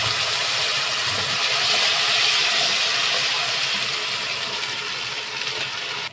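Tomato and onion puree frying in a pan with asafoetida and bay leaf, a loud, steady broadband sizzle hissing continuously throughout without speech.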